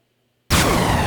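Missile fires in a video game, an abrupt loud launch that breaks out of silence with a sharp burst followed by a rushing, whooshing roar that holds to the end.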